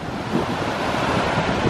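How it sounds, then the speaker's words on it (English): Wind-driven waves surge and break over a harbor break wall at Frankfort, Michigan, a continuous broad roar of surf mixed with heavy wind buffeting the microphone. "See the water breaking over the wall?"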